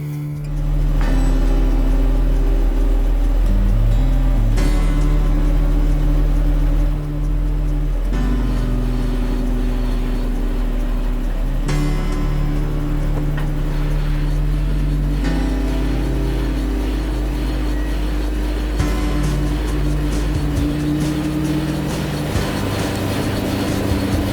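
A Jaguar XJ40's engine runs with its drive wheels spinning while the car is raised close to the ground, giving a loud, steady drone whose pitch steps up and down through several stages over about twenty-four seconds, with no talk.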